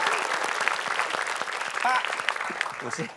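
A studio audience claps in a steady burst of dense, overlapping applause, with voices talking and laughing over it near the end.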